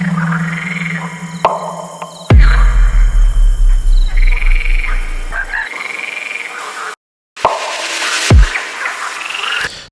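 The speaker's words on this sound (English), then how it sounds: "All the frogs, and it really puts you in a nice atmosphere" Frogs croak in a steady, rhythmic chorus throughout a dubstep/EDM track with heavy reverb, punctuated by deep bass swells and one brief dropout.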